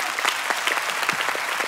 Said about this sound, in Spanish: Oye, dale un aplauso a esta mujer